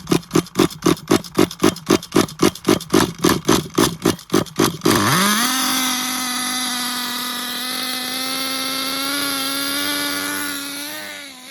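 An XTM Mammoth nitro RC monster truck engine starts with a rapid, evenly spaced string of loud pulsing bursts, then catches into a high, buzzing whine that steadies into a warm-up run.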